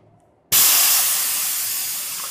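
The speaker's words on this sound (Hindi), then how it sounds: "ये मैंने सारी की सारी हवा निकाल दी" Air hisses out of a bicycle tyre being deflated, a loud, sudden, close-up rush of air that starts abruptly and holds steady, fading only slightly as it continues.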